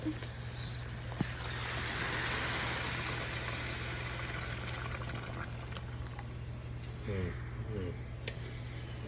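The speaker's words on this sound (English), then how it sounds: "Now we're going to pour in the water." Water pours steadily into a pot in a broad, rushing wash that swells and then eases, with a low hum in the background.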